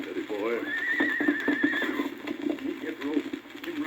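A horse whinnies loudly in a 1951 Lone Ranger radio drama pressed on a 78 record, one long rising-and-falling neigh followed by hoof clip-clops, with talk around it.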